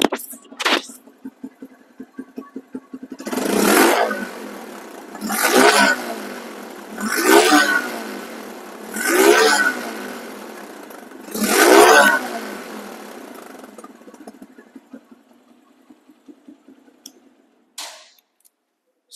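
A TVS Radeon motorcycle engine idles steadily up close, with about five sharp throttle revs rising and falling at a regular pace before the engine settles and cuts off, followed by a short click.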